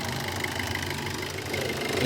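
A 2015 Maruti Suzuki Swift Dzire ZDi diesel engine idles steadily with a low, knocking rumble, close by and continuous.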